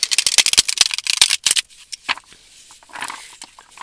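A deck of tarot cards is shuffled by hand in quick, crisp riffling bursts close up, thinning to a few scattered flicks and soft rustles toward the end.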